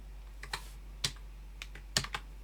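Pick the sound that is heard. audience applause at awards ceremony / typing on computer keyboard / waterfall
typing on computer keyboard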